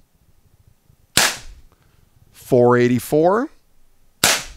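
Two sharp pops from a Snowpeak Defender CP300 air rifle, about three seconds apart, separated by a brief spoken number in the middle.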